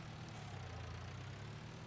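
A tractor from around the 1980s idles with a steady low, throbbing engine rumble, even and close, with no talking.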